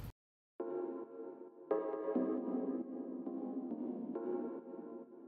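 Wet, reverb-drenched synth layer from a speed garage track, sustained harmonic chords swelling after a brief click and silence, with a louder re-attack near the two-second mark and a long washy tail, no voices.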